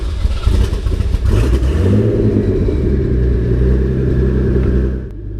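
Nissan 300ZX Z32 pulling away on a drive, a loud close engine rumble rising and settling into a steady low drone with some clatter early on, no speech.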